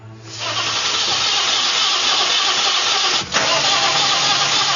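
A BMW starter motor cranks continuously without the engine catching, a steady loud churning drone close by with a brief dip near the end and no talk.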